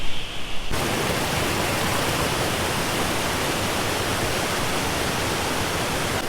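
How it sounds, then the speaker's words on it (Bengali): Steady, loud rush of a waterfall near Darjeeling, West Bengal, a dense even roar that fills the whole stretch after a brief quieter start. "এই যে সেই সামনে যে ঝর্ণা তো চলুন ঝর্ণাটা আপনাদের একটু দেখায় ভালো করে"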